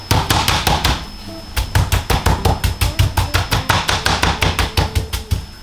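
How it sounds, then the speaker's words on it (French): A seasoned meat roast being pounded to tenderize it, with loud repeated thumping blows in a steady rapid rhythm, close by and alone after a brief pause near the start. "Ensuite pour tabasser la viande, comme ça soit un peu plus tendre."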